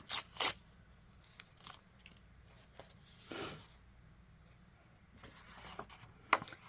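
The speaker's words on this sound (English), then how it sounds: "I'm just going to rip some pieces of this in different colors" Sheets of colored paper are torn by hand into pieces for a craft card, giving a few short, soft ripping bursts separated by quiet gaps, close and faint.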